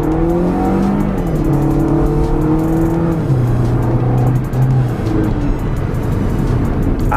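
Mini Cooper in sport mode accelerating hard from 0 to 60: a loud, close engine climbs steadily in pitch through the gears, with brief dips at each shift and a constant rush of road noise beneath.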